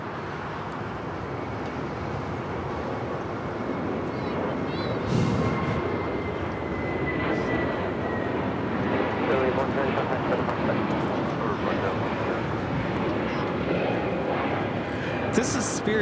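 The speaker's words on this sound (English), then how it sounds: "This is Spirit Airlines Flight 110 taking off to Salt Lake City on the A321neo" A Spirit Airlines Airbus A321neo jet taking off from LAX, a sustained engine roar that builds slightly and holds across the whole stretch, with a voice talking over it at times.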